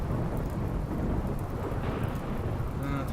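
Rain and thunder in the video game Rimworld: dense, steady downpour with a deep rumbling undertone, loud and unbroken throughout.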